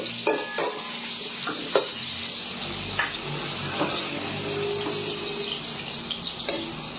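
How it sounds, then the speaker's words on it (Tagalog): Food sizzles and crackles in a hot pan while a utensil scrapes and stirs, with a few sharp clinks and knocks along the way. "Basta nakagisa na, prito na."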